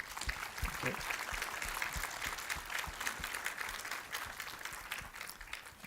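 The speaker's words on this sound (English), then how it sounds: "Please give a round of applause to the panelists." An audience applauds the panelists at a panel discussion with steady, faint, distant clapping throughout. Voices talk over it.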